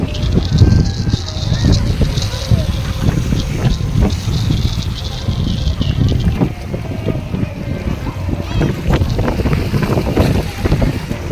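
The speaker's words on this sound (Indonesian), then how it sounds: "Kita lihat ada perahu yang berlayar" Wind rushes over the beach at Pantai Bali, Indramayu, on the north coast of West Java as a boat sails by, a loud continuous blustery roar with low rumbling and faint water sounds, without clear talk.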